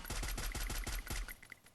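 Rapid automatic gunfire in a shooter video game rattles off in a dense burst of about ten loud, evenly spaced shots, followed by a few sharper scattered pings as the firing tails off.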